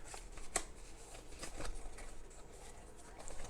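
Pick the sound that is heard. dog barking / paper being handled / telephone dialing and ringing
paper being handled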